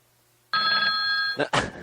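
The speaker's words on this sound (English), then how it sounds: "Get the phone." A telephone bell rings once in a bright, sustained electronic trill, loud and close after a quiet start, followed immediately by a couple of short voice sounds.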